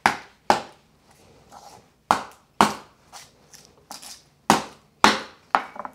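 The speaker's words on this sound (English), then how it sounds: "I'm gonna put in my quarter cup of sugar so that I can bash my garlic cloves" Garlic cloves bashed in a quarter cup of sugar, a run of sharp, close thuds at a steady pace, each hit ringing out briefly before the next, with quieter scraping between blows.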